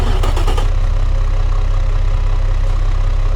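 Military engine idling in the Automation video game, a steady loud low rumble with a diesel-like knock and a few brief clicks near the start, with no talking.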